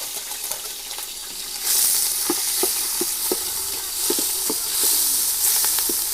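Oil sizzles and crackles steadily in a pan as crushed ginger, garlic and green chilli fry, with bright hissing bursts and scattered pops and clinks of stirring throughout.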